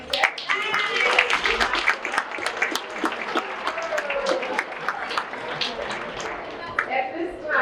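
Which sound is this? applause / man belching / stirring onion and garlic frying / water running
applause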